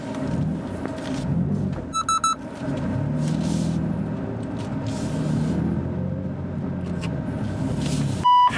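BMW M car drifting at a BMW M 50th anniversary event, a steady engine rumble with tyre noise carrying through the whole stretch, and a short electronic beep near the end.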